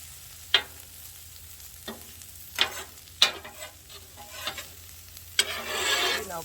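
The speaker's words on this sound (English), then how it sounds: "I'm gonna move these potatoes over to get some of that good bacon fat flavor" Bacon and potatoes cooking on a 36-inch outdoor flat top griddle, a soft steady sizzle broken by several sharp scrapes and clacks of a spatula moving the food, with the frying swelling louder at the end.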